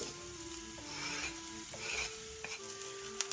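Quarter onion, poblano pepper and chicharrones sizzle and fry in a pan, with soft steady crackling, stirring, and a few light clinks of a utensil against the pan.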